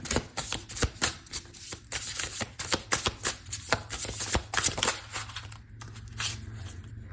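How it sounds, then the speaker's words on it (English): A tarot deck shuffled by hand in a steady run of quick riffling flicks and papery slaps, close and fairly loud, with no voices. "this was on the bottom of the deck when I started shuffling"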